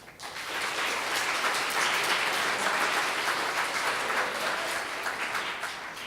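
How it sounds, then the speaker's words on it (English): Audience applause for a panel of researchers at an academic workshop, a dense steady clatter of many hands that swells quickly and holds fairly evenly for several seconds before easing slightly at the end. "I'd like to start with a round of applause for our panelists"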